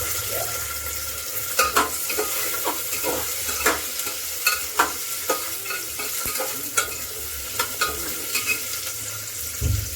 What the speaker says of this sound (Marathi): आता आपण यामध्ये सर्वात आधी जिरं घालून घेऊया जिरं घातल्यानंतर मी हे सर्व जे व्हेजिटेबल आहे हे धुवून घेतलेले आहे आणि आता यामध्ये घालणार आहे